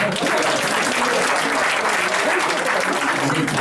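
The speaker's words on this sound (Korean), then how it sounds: "박수 한번 쳐주세요." Applause from the audience at a 30th anniversary school homecoming day, a thick, constant roar of clapping, loud and close, with a murmur of crowd voices mixed in beneath.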